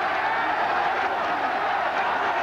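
A crowd roars and cheers at Tochigi Prefectural Gymnasium during the final round of a world title boxing bout between Shozo Saijo and Frankie Crawford, a steady, loud wash of massed voices.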